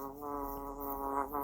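A mosquito's steady high whining buzz drones continuously with slight wavering pitch, close and fairly loud, alone without any talk.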